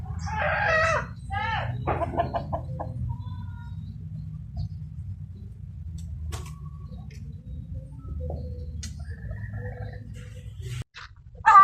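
Chickens cluck and a rooster crows briefly at the start on a farm that also keeps turkeys and ducks, then quiet farmyard ambience continues with a low hum and a few faint scattered calls.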